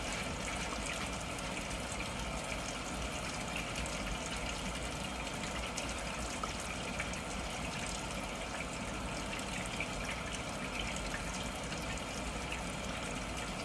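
Tap water runs steadily from a faucet during handwashing, a continuous broadband rush that stays even and unbroken from start to finish with no voices over it.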